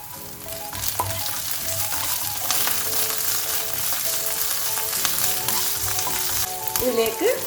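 Curry leaves sautéing in hot oil in a pan while cooking corn uppumavu, a bright continuous crackling sizzle with occasional stirring scrapes, close and fairly loud, no talking.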